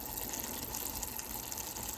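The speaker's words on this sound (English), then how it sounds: "I pour boiling hot water in it" Boiling hot water poured steadily into a plain jar, a continuous close splashing hiss of liquid filling, without pauses or voices.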